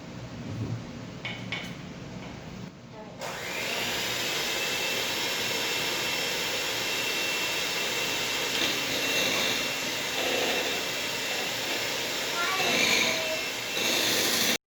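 An electric mixer whirs continuously while sugar is added to cookie dough, a steady loud motor drone starting a few seconds in after a quieter start, with a voice speaking over it.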